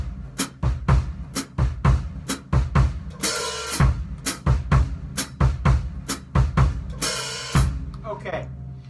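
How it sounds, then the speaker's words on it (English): A drum kit plays a samba-type groove, with sharp rhythmic snare and bass hits and two bright, washy hi-hat splashes made by lifting and dropping the heel on the pedal, close and loud. "I'm going to be doing what's called a hi-hat splash along with the samba type rhythm"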